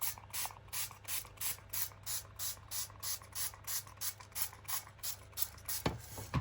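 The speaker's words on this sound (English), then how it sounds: "And I'm just going to spray" A trigger water sprayer spritzes paper in quick, even bursts, about sixteen short hissing squirts in a steady rhythm, close up, with a low hum underneath.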